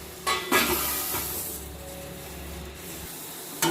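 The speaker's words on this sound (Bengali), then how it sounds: "গাজরটাকে সিদ্ধ করার জন্য আমি একটু ঢেকে দিচ্ছি" A lid is set down on a pot of chopped carrots being boiled for sabudana khichdi, giving a couple of quick metallic knocks near the start, followed by a low, steady hiss and hum.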